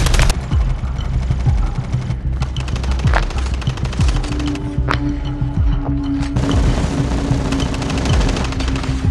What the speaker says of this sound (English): Both of them are shooting at my mate over here